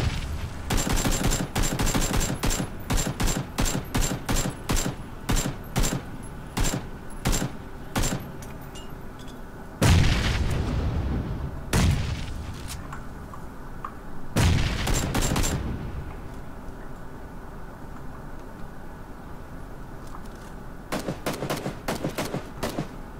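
Rapid bursts of gunfire in the video game PUBG, with dense automatic fire followed by several heavy, booming shots like a shotgun, loud and close, then sparse scattered shots near the end.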